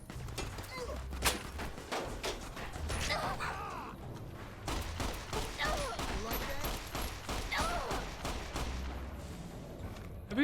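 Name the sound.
gunfire in video game Fallout New Vegas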